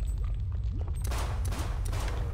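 Bursts of gunfire crack over a low rumbling background in the They Hunger video game, several sharp shots in quick succession in the second half, fairly loud and close.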